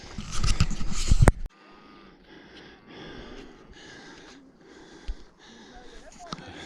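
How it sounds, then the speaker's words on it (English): Heavy panting from a hiker crossing rocky fynbos terrain near the Doring River comes as steady, close breaths after a brief loud rustle at the start. "hear me panting quite a lot here"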